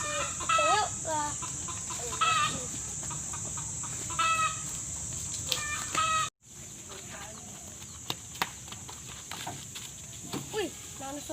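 A chicken clucks repeatedly in an outdoor setting, with bursts of rooster-like calls spread through the clip and a steady high insect or electrical whine behind it, briefly cut out midway; voices are faintly present.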